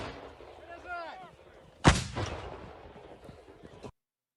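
A Soviet small-caliber artillery piece fires once with a sharp, loud blast that rumbles away over several seconds, preceded by quieter outdoor background sound.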